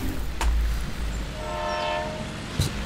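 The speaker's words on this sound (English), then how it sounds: "I just heard a train horn" A train horn in the Bus Simulator 18 video game, a sustained tonal blast rising and falling in pitch over rumbling engine noise, with a couple of sharp clicks around it.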